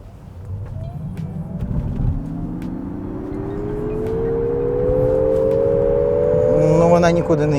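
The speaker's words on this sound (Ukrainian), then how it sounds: "зараз буде розгін від 0 до 100" A Nissan Ariya electric crossover hums and steadily climbs in pitch as it accelerates from 0 to 100 km/h, rising smoothly over several seconds with faint voices underneath.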